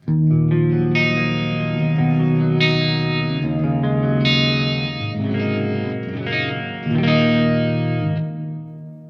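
Distorted guitar chords ring out with a swirling modulation effect and short repeating delay echoes, a few strums sustaining and decaying with no talking.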